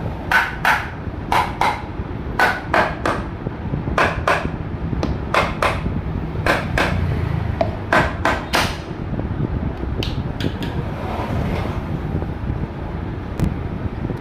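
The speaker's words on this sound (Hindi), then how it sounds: "हल्की की चोट लगाएंगे तो सही से बैठ जाएगी" Light hammer taps seat a part on a Honda CD 110 engine: a rapid series of crisp metallic ticks in uneven clusters, close and clear over faint background noise.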